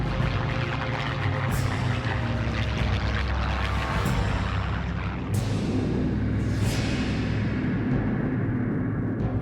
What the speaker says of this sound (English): The skies above southern England are filled with aircraft and the sounds of battle.